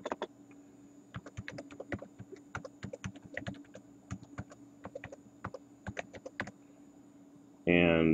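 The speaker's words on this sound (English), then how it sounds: "And we're going to type in a city." Keys clatter on a computer keyboard in an irregular run of close, crisp clicks while a network security certificate form is filled in, with a short burst of other sound at the very end.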